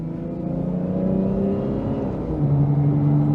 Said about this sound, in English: Even when you got your foot down, she's still only revving to about 4 grand in eco mode.